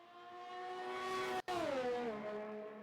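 Number 47 Ferrari race car at Sochless Gold, turn 4, in a sim racing series in Austria, its engine note rising steadily as it approaches, then dropping in pitch after a brief cut as it passes and pulls away.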